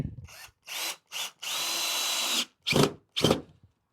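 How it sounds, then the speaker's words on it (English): Power drill driving pocket screws into pallet wood for a baby changing table, with several short bursts of high whining revving and one longer sustained run, close and loud, with no talk. "so the first thing I'm doing is I'm attaching it with the pocket screws"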